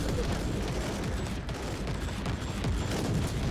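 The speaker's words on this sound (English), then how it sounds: "I'm loving the heavy bolter." Heavy bolter fire in a Warhammer shooter roars as dense, continuous rapid gunfire, loud and close, with booming impacts layered throughout the whole stretch without pause.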